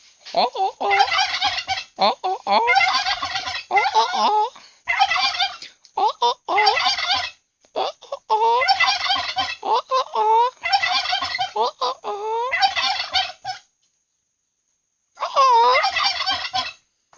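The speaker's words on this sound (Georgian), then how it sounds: "ეს ინდაურები რით ვერ იღლებია." Turkeys gobble repeatedly in loud, overlapping bursts, near and continuous, with one short pause before a last round of gobbling; no talk is heard.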